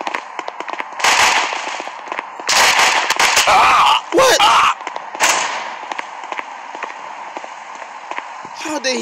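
Gunfire in the mobile shooter Guns of Boom comes as sharp bursts of rapid shots and pops mixed with game effects, loud and close, while a player talks over the action.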